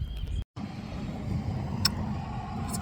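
Low, steady road traffic rumbles on the far side of a park where school buses have just pulled up, a distant continuous hum broken by one brief dropout near the start.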